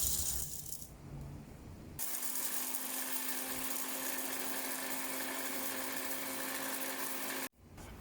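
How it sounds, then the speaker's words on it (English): Electric spice grinder whirring as it grinds toasted peppercorns, a loud steady motor buzz with gritty rattling that runs for several seconds after a brief quieter start, then cuts off abruptly near the end. "Transfer the peppercorns to the spice grinder."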